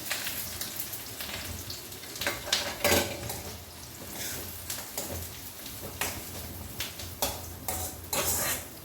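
Onions and green chillies frying in an iron kadai over a lowered flame, with a steady soft sizzle under repeated clinks and scrapes of a spoon against the metal pan; no one speaks.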